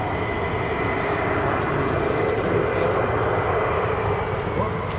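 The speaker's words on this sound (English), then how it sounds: "Another F-15" A USAF F-15 fighter jet roars past at an RAF airbase, a loud, continuous broadband engine rumble that holds steady throughout, with voices faintly present underneath.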